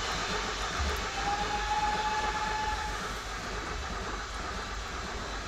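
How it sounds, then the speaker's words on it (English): Steam locomotive 4406 running at speed in Train Simulator 2020 near Paignton, a steady close rumble and rush with a faint thin whistle-like tone drifting over it, no speech. "I'm using 4406, that's the number of this locomotive"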